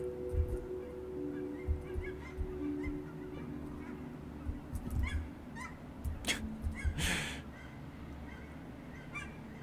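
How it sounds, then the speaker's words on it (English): Cackling geese, small birds resembling Canada geese, honk in a loose scattered series of calls, some close and fairly loud, over a steady low background hum. "Do you suppose there's a market for audio recordings of geese honking?"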